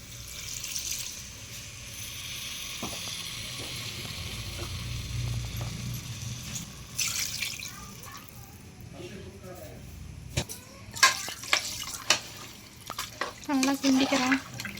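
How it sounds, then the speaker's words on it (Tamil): Water is poured into a pot of sizzling country chicken curry, a rushing splash over the frying hiss, followed by stirring and clinking. A cook talks over much of it. "தண்ணி ஊற்றிக்கிறோம்."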